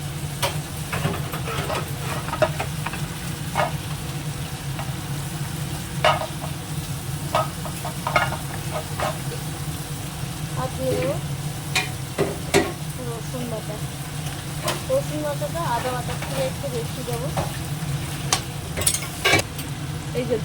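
Ginger paste fries in a pan with a steady low sizzle while a spoon scrapes and stirs in irregular clicks and taps.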